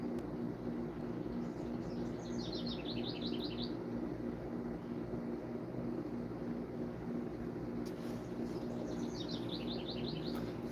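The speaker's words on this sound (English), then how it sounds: "I can hear the birds coming out now." Two short bursts of high, rapid bird chirps over a steady low rumble of engine or vehicle noise, the birds moderately distant.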